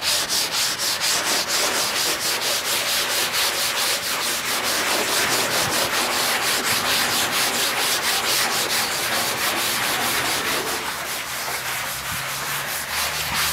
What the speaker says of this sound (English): it's gonna take a lot of scrubbing